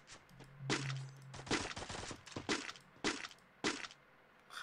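Gunfire from the Free Fire video game crackles in short, irregular bursts of sharp reports, some closely clustered and some isolated, fairly quiet and without talk.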